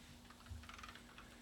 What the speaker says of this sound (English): I'm typing on the new typewriter we found.